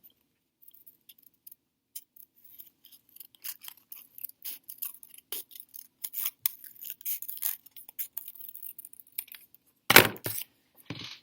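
Scissors cutting out a paper leaf template, close and crisp: sparse snips at first, then a busy run of quick cuts with small rustles, ending in a couple of louder snips.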